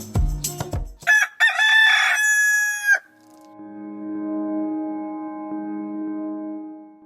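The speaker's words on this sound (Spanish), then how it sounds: "solo interrumpido por los gallos de las casas colindantes" Roosters from the neighbouring houses crow at dawn, one loud and close with several clucks, then another answers with a long, fainter crow in an otherwise quiet setting.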